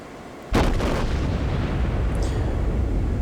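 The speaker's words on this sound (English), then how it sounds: "The Myogi is now inside my range, and so I fire at him." Heavy battleship guns firing at the Myogi in a naval combat game: a sudden loud boom breaks the quiet, followed by a long rumbling roll that lingers through the rest of the moment.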